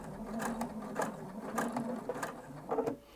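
A sewing machine stitches around a corner in short bursts, with quick mechanical clatters separated by pauses as the fabric is turned and the seam tapered, moderately loud with no talk.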